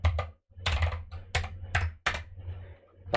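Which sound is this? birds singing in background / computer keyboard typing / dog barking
computer keyboard typing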